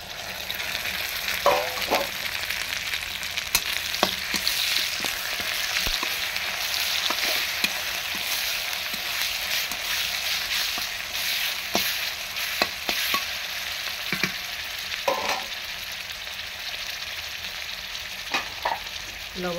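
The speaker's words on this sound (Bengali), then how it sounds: "তো আমি এখন আদা রসুন মশলাটা দিয়ে দেব" Browned onions sizzle and fry in a pan with ginger-garlic spice paste, a steady hiss broken by scattered clicks and scrapes of stirring, close and fairly loud with no talk.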